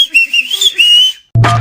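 A person whistles a short wavering tune of a few quick notes, close and clear, for about a second, followed by a brief burst of other sound after a short gap.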